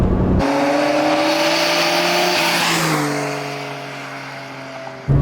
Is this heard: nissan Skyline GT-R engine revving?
yes